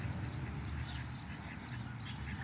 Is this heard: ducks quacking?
yes